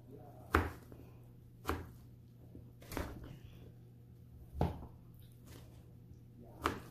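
A knife chops through pieces of jackfruit (langka) on a cutting board in slow, evenly spaced, dull thuds, five close cuts over a steady low hum.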